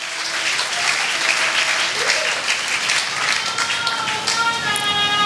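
A church congregation claps steadily throughout, a dense, continuous wash of applause with scattered cheers and faint voices mixed in.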